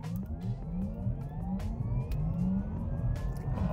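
A Porsche Taycan 4S Cross Turismo electric estate launching hard under launch control in sport plus mode, a steady rising electric motor whine over loud road and tyre roar, close-up from inside the cabin, with no talking.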